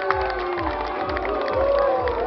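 Audience at a contestant preselection show booing and shouting, a sustained, loud crowd roar that swells slightly toward the end, with mixed voices throughout.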